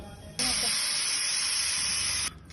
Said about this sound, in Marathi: दोन शिट्या झाल्यानंतर कुकरचं प्रेशर रिलीज करून घ्यायचं आहे